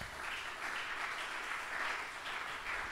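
A church congregation claps and cheers for the Lord, a steady wash of applause holding at even loudness throughout, with no voices breaking through.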